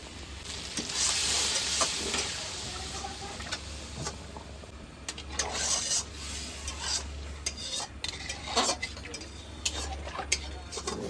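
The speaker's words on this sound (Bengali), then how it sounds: "আমার খাসির মাংস কষানো হয়ে গেছে, এবার আমি জল দিয়ে দেবো, গরম জল।" Hot water hits sizzling braised goat meat in a pot, making a loud hissing rush that fades into scraping, stirring and sputtering, with a voice talking intermittently.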